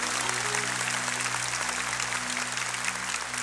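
A congregation applauding during a Catholic Mass, a steady wash of clapping throughout, with low sustained organ or keyboard tones humming underneath.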